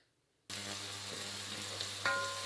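Chopped onions sizzle loudly in a hot pan, starting abruptly and holding a steady crackling hiss, with a brief scrape partway through.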